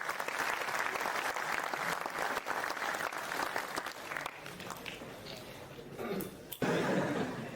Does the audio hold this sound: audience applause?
yes